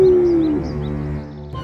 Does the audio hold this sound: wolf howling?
yes